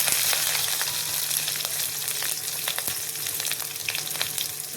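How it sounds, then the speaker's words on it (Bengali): Garlic and chopped green chillies fry close up in hot oil for a lentil mash, giving a steady, dense sizzle with scattered sharp crackles and pops throughout, no voices. "রসুনটা হালকা ভাজবো একটু। কেটে রাখা কাঁচা লঙ্কা দিয়ে দিচ্ছি।"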